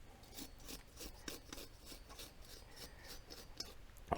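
A rag is rubbed over suppressor baffles to clean them, a faint, steady rhythmic rasping and wiping repeated close by.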